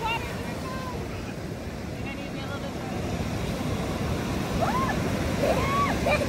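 Ocean surf washes up on a North Carolina beach with a continuous broad rush of water and wind, growing slightly stronger toward the end, while voices call out over it.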